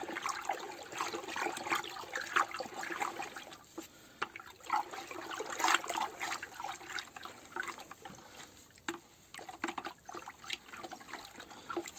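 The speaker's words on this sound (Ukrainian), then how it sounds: "І воду тепер вливаємо." Water poured into a container to mix Bordeaux mixture for a first garden spraying, an uneven splashing and trickling stream at moderate distance, fading in and out.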